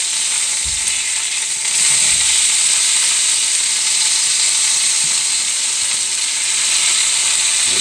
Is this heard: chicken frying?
yes